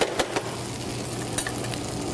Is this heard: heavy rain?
no